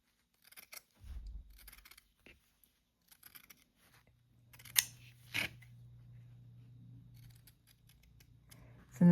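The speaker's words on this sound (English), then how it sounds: "I'm finishing up cutting out the upper patterns" Scissors cut out shoe upper patterns for hand-stitched, center-seam shoes. Scattered, quiet, close snips and crisp cutting sounds come in short bursts, with soft handling noise between them.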